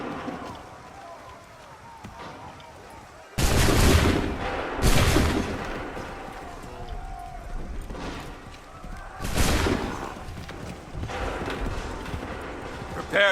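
Musket volleys in Assassin's Creed III: sudden loud crackling bursts of massed gunfire, three main volleys spaced seconds apart, over battlefield noise and shouted commands.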